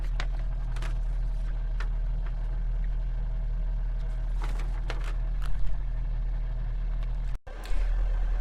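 A 12V rooftop air conditioner running in turbo mode, giving a steady low hum and drone. Scattered clicks and knocks sit over it, and there is a brief dropout near the end.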